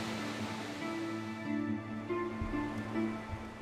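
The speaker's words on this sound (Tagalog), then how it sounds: "Malakas ang ragasan ng tubig sa ilog" River water rushes during rain at Biyak na Bato National Park, a steady wash of water noise at moderate distance, with faint tonal hums and a few thumps.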